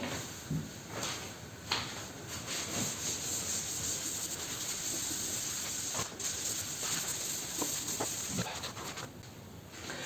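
Continuous rubbing and scrubbing as writing is erased from a board in an optical fiber lecture, a steady hiss-like swish with a few soft knocks and no talk.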